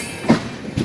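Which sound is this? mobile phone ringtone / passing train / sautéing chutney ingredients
passing train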